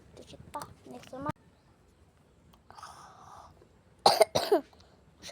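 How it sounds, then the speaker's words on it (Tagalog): A person coughs in sharp bursts: a few faint coughs early, then two loud close coughs near the end, with quiet talk and rustling between. "Masyado talaga ako may ubo."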